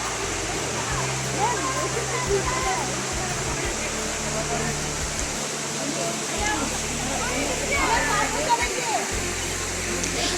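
Elephant Falls in Shillong, Meghalaya, a steady rushing roar of falling water that runs throughout beneath a person talking.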